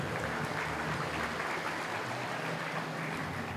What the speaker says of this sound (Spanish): Que se escuche ese aplauso público presente.